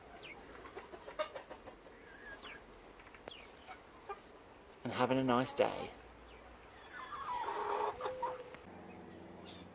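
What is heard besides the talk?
hens clucking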